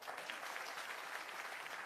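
Applause from an audience at a one-day political party workers' workshop at an ashram in Bihar: dense, steady clapping from many hands, moderately distant, with no break.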